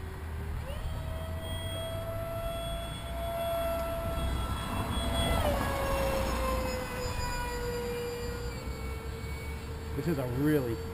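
Model airplane flying overhead outdoors near a building, a rising and falling engine whine that swells in the middle and echoes off the walls, moderately loud at a distance.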